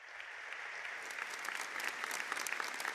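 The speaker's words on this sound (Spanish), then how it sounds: "Fuerte el aplauso para ustedes por todo ese trabajo que realizan." Audience applause at a citizen outreach meeting with a women's brigade, a steady, fairly faint wash of many hands clapping with no talk over it.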